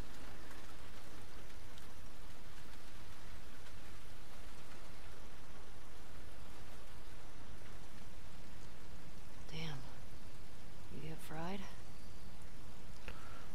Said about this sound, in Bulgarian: много харесвам така един такъв тих пролетен дъжд